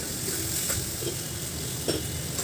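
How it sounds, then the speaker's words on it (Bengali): Masala for a prawn and raw banana kofta curry is stir-fried with small splashes of water, giving a soft continuous sizzle broken by a few light spatula scrapes and stirs. "একটু একটু করে জল দেবেন আর ভালো করে কিন্তু এটাকে কষবেন।"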